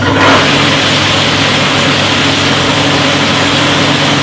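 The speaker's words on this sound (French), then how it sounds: "nous allons mettre le mélangeur Typhon en fonction" A Typhon agricultural sprayer mixer, used in vineyard work, runs with a loud, steady mechanical drone that holds evenly from start to finish with no pauses.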